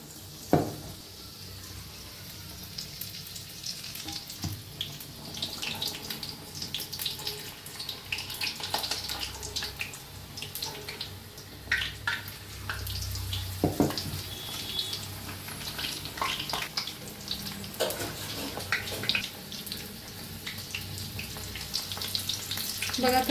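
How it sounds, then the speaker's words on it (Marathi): Spinach leaves dipped in batter deep-fry as pakoras in hot oil, giving a steady close crackling sizzle with occasional sharper pops and clinks throughout, and no talking. "छान असे तळून घेऊया दोन्ही साइडने।"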